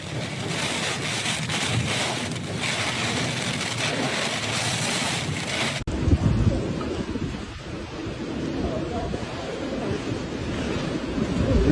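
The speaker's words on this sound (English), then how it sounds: "The storm, with wind speeds reaching 152 kilometers per hour, was the strongest to hit Shanghai since 1949" Typhoon Bebinca's wind and rain roar over Shanghai, a loud, dense, continuous rush of gusting wind and pouring rain with deep rumbling, shifting abruptly midway to a heavier, lower roar.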